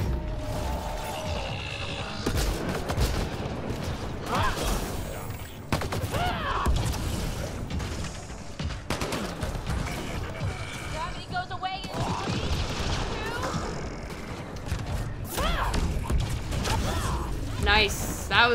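A fire combo detonation in Mass Effect: Andromeda amid ongoing combat, with crashing blasts, booms and gunfire layered over busy battle noise, and a voice talking throughout.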